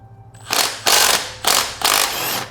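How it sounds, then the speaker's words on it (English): A stubby battery-powered impact wrench hammers loose the lower suspension bolt on a Kawasaki ZX6R motorcycle in four loud, close bursts of rattling impacts, with a faint motor whine at the start. "Taking off this lower suspension bolt that I can actually get to now."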